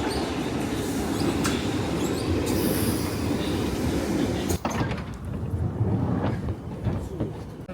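London Underground Piccadilly Line train arriving at a station: a steady rumble of wheels on rail with brief squealing and a sliding door near the middle, fairly loud and close, no talk.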